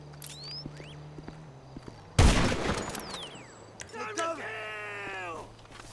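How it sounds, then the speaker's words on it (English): A single loud gunshot or burst cracks out in GTA Online against quiet game ambience, followed shortly by a groaning voice and other faint in-game sounds. "Who is shooting me?"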